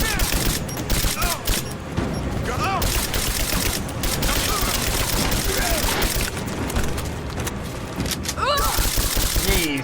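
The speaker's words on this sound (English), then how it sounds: "Give me suppressing fire!" Dense gunfire in the Rise of the Tomb Raider video game, with continuous rapid bursts and booming shots layered over a busy battle soundscape throughout.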